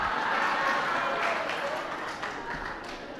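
An audience applauds at a religious discourse with a monk, giving a dense patter of clapping that starts loud and tapers off over a few seconds.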